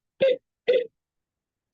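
Two short, sharp hiccups a half second apart, close and fairly loud, each a brief voiced gulp, followed by silence.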